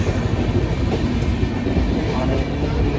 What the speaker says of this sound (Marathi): समोरून आपले इंदोर डाऊन अशी ट्रेन चाललेली आहे